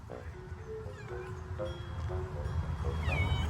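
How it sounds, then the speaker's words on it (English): Feral cats at a tiny outdoor shelter meow several times, a few rising and falling calls close by over a steady low background rumble. "Oh, we got some curious kitties."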